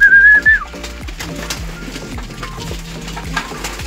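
Pigeons returning through the landing board into their loft, giving soft low coos and fluttering amid a busy jumble of bird calls, with a brief whistle-like tone at the start.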